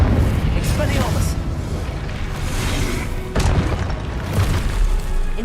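Confringo blasting spells explode mid-duel in Hogwarts Legacy, deep rumbling booms with crackling bursts, one strong blast hitting sharply partway through, loud throughout and mixed with speech.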